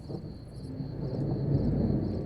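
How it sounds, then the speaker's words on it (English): Rolling thunder in the Fallout: New Vegas game world, a steady low rumble that swells slightly toward the end, moderately loud and alone with no talk. "I also hear rolling thunder,"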